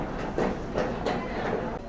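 The Amaravati Express starts moving at Samalkot railway station: steady rumbling with rhythmic clicking of wheels over rail joints, close by, no talking.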